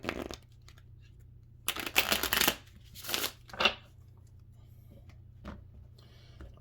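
Several brisk riffling bursts of tarot cards being shuffled, close by, with quiet pauses between them and a low steady hum underneath.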